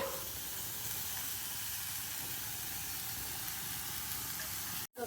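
Chopped pumpkin flowers hit hot oil in a pan and sizzle with a steady, loud hiss that holds evenly throughout before a brief drop at the end.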